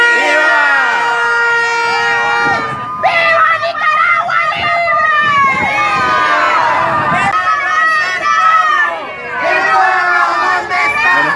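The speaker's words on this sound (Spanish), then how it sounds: "Estos son los precisos momentos en que tres patrullas de antimotines se acercan al lugar donde mantenemos el plantón." Three riot police patrol cars approach a protest sit-in in Nicaragua, sirens wailing loudly in rising and falling tones over a shouting, agitated crowd; voices are heard throughout.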